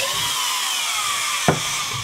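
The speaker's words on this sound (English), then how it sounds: "It's dead easy to drill as well." A power drill runs continuously at a steady high whine, boring a hole through a table near the edge, with a single sharp knock partway through.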